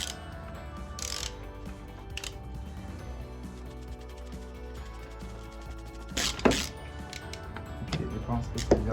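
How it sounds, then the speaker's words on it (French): A ratchet fitted with a 27 mm socket loosens the oil filter housing on a Peugeot 208, giving faint mechanical clicks and scraping against a low workshop hum, with a few louder knocks near the end. "On va ouvrir le filtre à huile."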